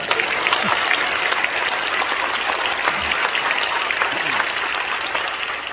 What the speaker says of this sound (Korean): 다시 한번 박수 한번